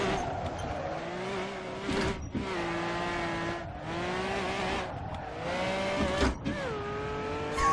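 A retro race car slides sideways in Assetto Corsa, its engine droning and revving continuously with pitch sweeps and brief dips as it is held in a long drift.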